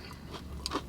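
A single crunchy bite into crispy fried chicken dripping with gravy at Jollibee, a brief close crackle and crunch standing alone.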